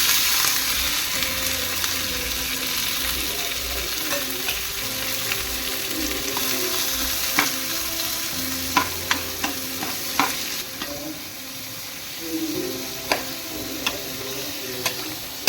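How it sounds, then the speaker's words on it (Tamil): Cumin seeds and curry leaves crackle and sizzle steadily in hot oil for an aviyal tempering, with a spoon stirring throughout and sharp pops and ticks scattered near the end. "ஜீரகம் இந்த அளவுக்கு பொரிஞ்சா போகிறோம். கருவேப்பிலை வேணாம். இப்போ கருவேப்பிலை போட்டுக்கலாம்."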